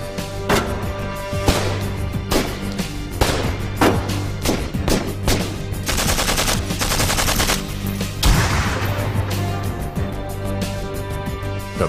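Gunfire tests the armor of a Mercedes S 600 Pullman Guard. Loud, close single shots and rapid automatic bursts ring out in a dense, continuous barrage with no talking.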